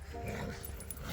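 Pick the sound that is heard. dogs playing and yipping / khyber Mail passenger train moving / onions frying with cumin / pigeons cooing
dogs playing and yipping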